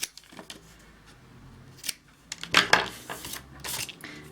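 Paper for a folio album is cut and handled up close, giving a few crisp snips and rustling scrapes in uneven bursts against a quiet background.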